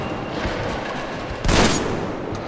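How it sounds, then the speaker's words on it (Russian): A single gunshot in the video game Metro Exodus, set in Moscow, bursts out loud and broad mid-clip against a steady noisy in-game background, with a brief tail after the blast. "Один выстрел."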